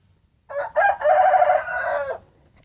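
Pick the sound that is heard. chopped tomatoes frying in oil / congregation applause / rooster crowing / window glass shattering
rooster crowing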